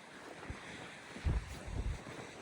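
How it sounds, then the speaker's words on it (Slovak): Strong coastal wind at a viewpoint on Senja, Norway, buffets the microphone in low, uneven gusts, with two heavier thumping bursts in the middle and no speech. "Krásne fúka. Fúka akože veľmi."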